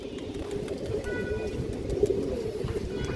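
Close, clear cooing from female pigeons of fancy lines such as satin, rhythmic throaty phrases repeating over a soft bed of flock noise and occasional faint chirps.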